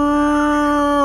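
A person imitates a cow's moo with one loud, sustained, droning vocal tone lasting about a second.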